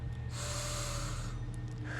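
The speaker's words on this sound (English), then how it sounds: "Deep breath." One deep, slow inhalation, audible and close, under a steady low background hum with no speech.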